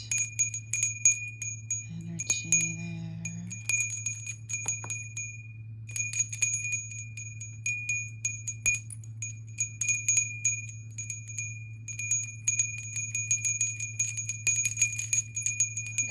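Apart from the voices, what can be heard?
bell rung to clear the space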